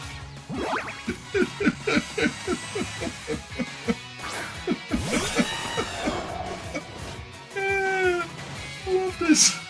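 A pet cat meows repeatedly in quick succession, close by, followed by a louder drawn-out cry, while a person talks and laughs over the calls.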